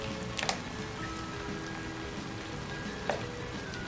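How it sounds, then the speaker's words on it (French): Pasta tossed in a pan with oyster sauce and ketchup for Japanese spaghetti Napolitan, a steady soft sizzle with a couple of brief scraping clinks as it is mixed. "On va tout mélanger."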